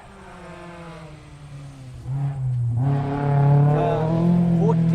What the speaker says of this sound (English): There's your Altessa Ross. Paul Lana from Australia and Roger McNaughton, Toyota Altessa RS 200